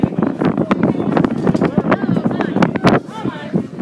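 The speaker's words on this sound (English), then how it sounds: "The wind is blowing away everything." Strong outdoor wind buffets the microphone with a constant low rumble and gusty roar while people talk loudly over it.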